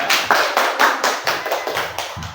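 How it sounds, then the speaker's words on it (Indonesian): Hands clapping in a group session, about eight sharp claps in a steady counted rhythm, close and fairly loud, with no talking. "Ya, tepuk tangan."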